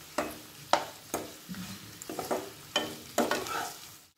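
Sliced potatoes with sugar and salt are stirred in a pan, giving about eight distinct scraping pushes of the spatula over a soft sizzle, close and with no talking.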